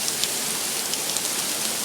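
Hail pelts down in a dense, steady hiss during a 2011 tornado storm in Johnson City, New York, a continuous close patter with scattered sharper impacts.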